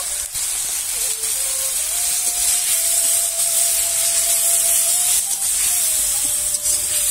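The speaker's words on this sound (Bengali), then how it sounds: "ভালো করে মশলাটা কষিয়ে নিব" Spice paste of cumin and chili powder with a little water sautéing in a pan, a loud continuous close sizzle with broad hiss and occasional scraping.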